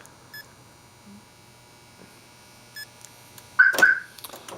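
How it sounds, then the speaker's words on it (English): A Viper aftermarket car alarm goes off when the car is unlocked: faint short beeps first, then a loud, harsh burst of alarm tones near the end, close by. "if I unlock this car right now, the alarm will go off"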